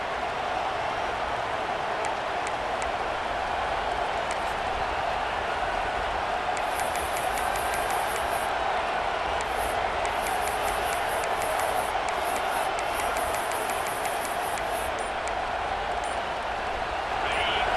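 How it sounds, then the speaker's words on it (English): Stadium crowd roar in the video game College Football 26, a dense, steady wall of cheering that holds at the same level for the whole stretch, with no pauses or swells. "listen to this crowd noise. This stadium is vibrating."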